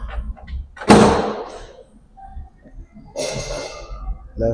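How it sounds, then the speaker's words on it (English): A car's left front door is opened and shut during a vehicle inspection, giving one loud sharp clunk near the start and a second, softer clunk about two seconds later, both close to the microphone. "Left front door."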